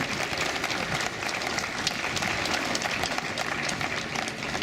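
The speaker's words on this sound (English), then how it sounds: "So if we could just have a round of applause for our fallen comrade here" Crowd applause from a Pride parade audience, a dense, continuous roar of clapping with rumbling outdoor noise beneath it, loud and even from start to finish.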